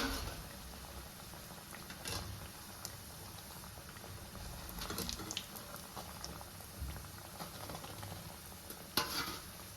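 Dahi kebabs frying in hot oil, giving a soft continuous sizzle and bubbling with a few faint scraping touches, fairly quiet and with no talking.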